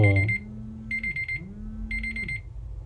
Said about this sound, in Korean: 아이고 막 그 알람이 계속 울리네요.